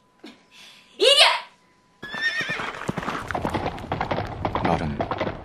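A white horse gives a sharp, loud neigh alone, then breaks into fast galloping hoofbeats that thud on and on in a steady rhythm.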